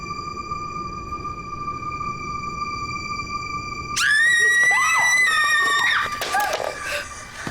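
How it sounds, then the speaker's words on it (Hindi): A woman lets out a sudden loud, piercing scream partway through, rising and wavering for about two seconds. Before it, a steady high electronic tone hums on its own. "क्यों चिल्लाई? तुम क्यों चिल्लाई?"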